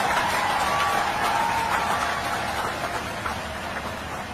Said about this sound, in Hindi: सारे लोग अपने स्थान पर खड़े होकर दोनों हाथ से ताली बजा करके माननीय बहन कुमारी मायावती जी का स्वागत करने का काम करें।